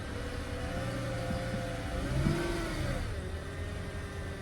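A Lexus LS430 engine runs steadily with a mid-pitched whir and a brief rise near the middle, with faint grinding and tonal squeals layered over it and no talking.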